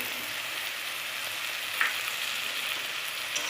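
Fried potatoes with salt and chilli powder sizzle in a pan for a mung dal and ridge gourd curry, a constant close hiss with one faint stirring knock.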